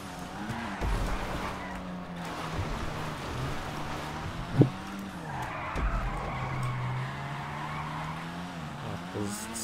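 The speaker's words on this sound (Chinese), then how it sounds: "不是此起彼落刹车声" A Toyota 86 in GTA V brakes and slides down a mountain road, its tires squealing in long wavering skids over a steady engine hum, with a brief bump midway.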